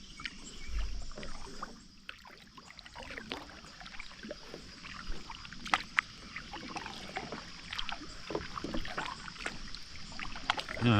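Kayak paddling on a river near a beach campsite, with steady splashing and dripping strokes close by under light wind, no talking.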